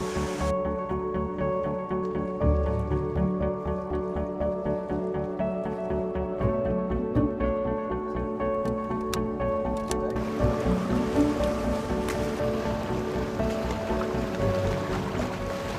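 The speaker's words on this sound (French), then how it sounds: "Les aérateurs qui nous permettent d'oxygéner l'eau des bassins." TNC Spirols aerators churning and oxygenating pond water at an aquaculture site in New Caledonia, a steady close splashing wash layered with low mechanical hum that continues unbroken throughout.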